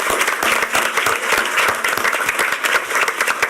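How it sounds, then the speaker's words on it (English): Room-filling applause at a school board meeting for newly elected board members, a dense, steady wash of many hands clapping throughout with no talk over it. "Please join me in a round of applause and congratulations to each."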